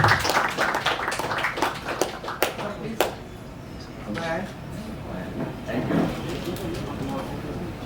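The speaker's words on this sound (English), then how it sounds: "A big round of applause for Mr." An event audience at a Mumbai cricket gathering gives a round of applause, a burst of scattered claps that opens strongly and then thins into sparse, uneven clapping.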